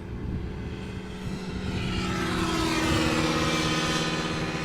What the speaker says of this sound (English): this is KLM flight 645, 777 outbound New York JFK, 777-300ER